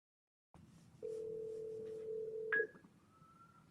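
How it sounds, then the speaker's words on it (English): After voice-dialing with Siri, a phone call rings out: a clean, steady ringback tone holds for about a second and a half, ends with a short bright click, and is followed by a faint higher tone. No one speaks. "Hey Siri, dial 614."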